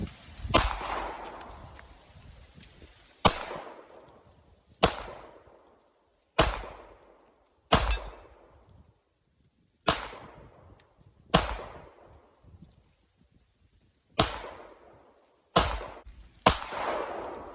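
Eleven sharp, loud gunshots from a 9mm Glock 34 pistol fired outdoors at a stone, spaced one to two seconds apart. Each crack is followed by a fading echo.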